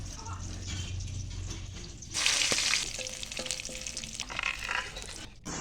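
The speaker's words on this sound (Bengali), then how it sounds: "মাখানো মাছগুলো এক এক করে তেলের মধ্যে দিই, উল্টে পাল্টে হালকা একটু ভাজি তুলে নেব।" Fish frying in hot mustard oil in a wok, a steady sizzle that swells louder midway as pieces go in, with scraping and stirring clatter over it.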